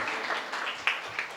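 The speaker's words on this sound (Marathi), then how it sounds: "त्यांच्यासाठी एकदा टाळ्या वाजवा." An audience at a kirtan claps in a short, faint burst of scattered handclaps, with a few sharper claps standing out near the end.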